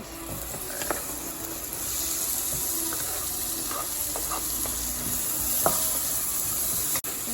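Carrots and browning onions get stirred in a sizzling pot for a banana coconut sauce, a steady frying hiss with scattered scraping spoon taps throughout and no talking.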